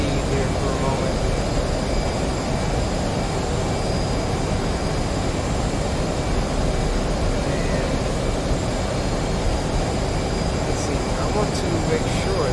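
An F/A-18 Hornet in DCS World produces a steady, loud jet engine roar in flight over the Persian Gulf, a constant broadband rush with no breaks.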